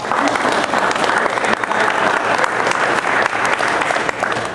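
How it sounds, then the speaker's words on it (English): An audience gives a round of applause at a talk, with dense, even clapping from a sizable crowd at constant loudness throughout and no one speaking over it. "Give him a round of applause."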